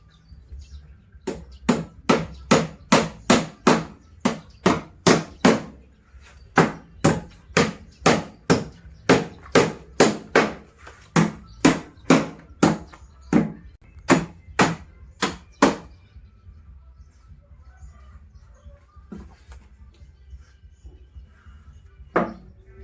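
Nails hammered while a table is built: close, sharp blows in quick steady runs of about a dozen strikes each, with brief pauses between runs and a few scattered knocks near the end. No one speaks.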